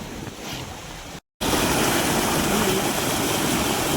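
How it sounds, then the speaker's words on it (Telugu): Water released from a dam rushes out with force, a loud broadband roar that starts softer, cuts out briefly, then returns as a steady heavy torrent close by. "ఇలా వచ్చి ఎంత ఫోర్స్కి వస్తున్నాయి చూడండి"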